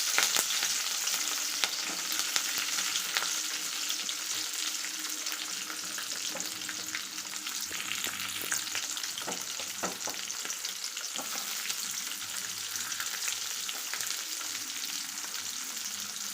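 Onions, curry leaves, green chillies and beans sizzle steadily in hot oil, a loud continuous frying hiss with occasional stirring scrapes and no talk.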